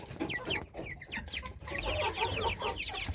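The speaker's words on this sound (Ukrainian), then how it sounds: "Здається, що тут дуже багато півників." Several chickens, mostly young roosters, cluck and chatter at once, close by, a busy overlapping flock with a brief louder squawk midway.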